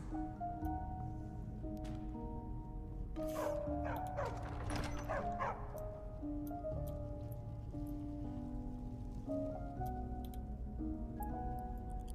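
A Daedra dog in the video game Skyrim barks in a short burst of several yips amid steady game ambience and low background hum, fairly faint overall.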